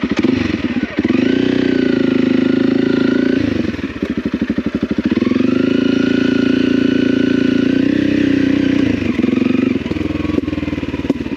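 Motorcycle holding a steady cruising speed on a test ride, its engine a continuous mid-pitched drone, close and fairly loud, with brief dips and shifts in tone around gear or throttle changes.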